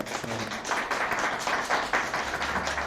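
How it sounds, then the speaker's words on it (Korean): A church congregation at a Sunday Lunar New Year service applauds a departing elder, with soft, distant clapping from many hands in a reverberant hall and a low hum underneath. "박수 한번 쳐주시기 바랍니다"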